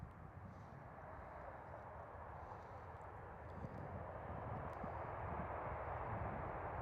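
A Ryanair airliner comes in to land at Schiphol Amsterdam, a faint, distant engine rumble that swells slightly toward the end, with no voices.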